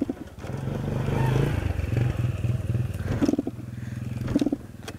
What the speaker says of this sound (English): Now I'm trying to start my bike. It's a race bike. It won't start.